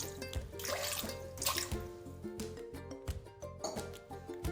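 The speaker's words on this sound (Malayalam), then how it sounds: "അതിന് ശേഷം നമുക്ക് ഇതിലേക്ക് കുറച്ച് വെള്ളം ഒഴിച്ചു കൊടുക്കാം" Water is poured into a cooking pot holding jackfruit seeds, close splashing and dripping with uneven trickles and a few clinks, fairly quiet and without speech.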